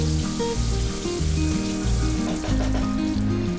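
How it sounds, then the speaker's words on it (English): Cumin seeds, cloves, black peppercorns, green cardamom and star anise fry in a pan with a soft, steady sizzle and light crackle, close and continuous with no talk. "in a same pan add half tablespoon cumin seeds, 7 cloves, 1 teaspoon black peppercorns, 7 green cardamom, 1 star anise"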